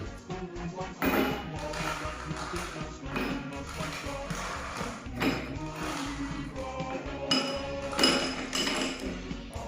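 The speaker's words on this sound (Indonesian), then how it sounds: "Kemudian di atas tutupnya kita kasih es batu." Ice cubes are placed onto the closed lid of a container in a water-cycle classroom demonstration, producing a busy stretch of clinks, taps and light knocks with some background noise.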